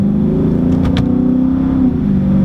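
Dodge muscle car, a Scat Pack, Daytona, SRT or Hellcat on Michelin Pilot Sport tires, accelerating on a snowy road; a loud, close engine drone rising steadily in pitch, heard from inside the car without talking.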